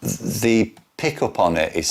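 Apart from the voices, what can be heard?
No distinct noise like a dog, phone or traffic.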